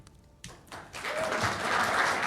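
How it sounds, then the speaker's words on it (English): Audience applause at a debate, starting faintly and swelling into steady, sustained clapping from a crowd. "she gets claps for that"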